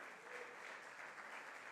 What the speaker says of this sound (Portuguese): Vamos aplaudir o nome de Jesus